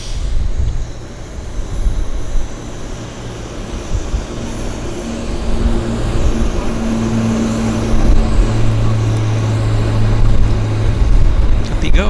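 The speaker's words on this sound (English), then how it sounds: "these are like flies, the Beech 1900s, because we've got another one right, the one that is taxied out, he's on the departure roll right there" Beech 1900 turboprop on its departure roll at Vancouver Airport, a droning engine hum with tonal propeller whine that builds gradually over steady background rumble, with some talk mixed in.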